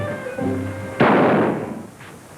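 Gunfire in a 1939 western film: a loud, sharp shot cracks out after a stretch of music, followed by a fainter second report and the start of a third.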